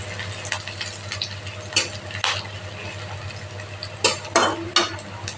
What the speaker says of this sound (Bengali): পেঁয়াজ আর রসুনটা ভালো করে ভেজে নিচ্ছি